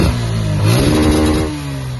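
A Suzuki Gixxer Fi-ABS motorcycle idles in neutral close by. The engine runs loud and steady, rising in one brief rev midway before settling back to idle, with no voices.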